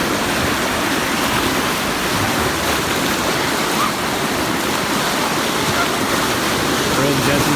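Boulder River rushing over granite boulders, a steady broadband roar of fast water close by that continues evenly and loudly without pause.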